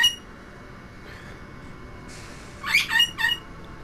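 A pet bird squawks in a room with a video game playing, giving three short, sharp squawks close by near the end after a quieter stretch with a brief hiss.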